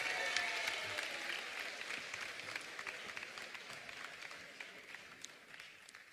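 A festival audience at a Venetian song contest claps steadily, a dense wash of applause heard from a distance that gradually tapers off.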